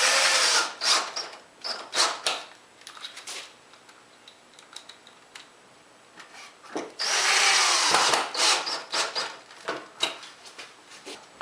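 A power drill drives 1¼-inch deck screws into wood for an Adirondack chair, with bursts of whirring and a longer run as a screw seats; close and fairly loud, with short pauses between screws.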